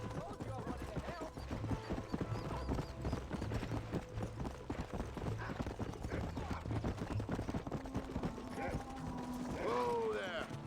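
Horse hooves clip-clop rhythmically in the Red Dead Redemption video game, a steady run of close hoof falls that slows near the end, with a horse snorting and a brief whinny at the close, while voices talk over it.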